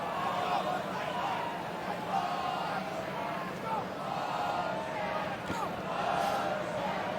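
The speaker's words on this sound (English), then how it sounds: "Crowd clearly not happy" Stadium crowd at a UCLA at Washington State college football game rumbles with steady, dense disapproval after a flag on the field, a broad sustained roar with no clear peaks, and no commentary over it.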